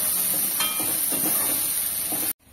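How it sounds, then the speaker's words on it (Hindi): Spice paste (vatan) sautéing in a pan for an Umbar handi, a steady loud hiss and sizzle running throughout before cutting off abruptly at the end. "आणि 2 मिनिटांसाठी आपल्याला हे वाटण चांगलं परतून घ्यायचं आहे."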